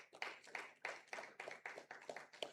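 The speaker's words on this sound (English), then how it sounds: "Please give yourself a round of applause" Applause from a small audience at a regional debate competition quarter final, a run of distinct claps with a steady rhythm, fairly faint and not dense.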